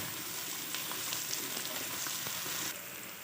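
Steady, soft sizzling of garlic-ginger paste and onions frying in a pan, a continuous crackle with occasional pops, close by and without talk.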